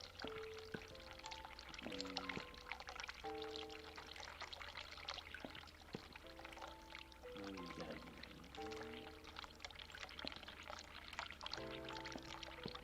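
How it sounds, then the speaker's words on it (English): Hot water runs from a tap in The Cat Lady, a steady pouring stream heard quietly beneath recurring low musical tones. "Run the hot water."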